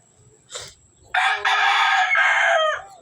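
A rooster crows once, loud and close, a long drawn-out call after a brief cluck, against a quiet background.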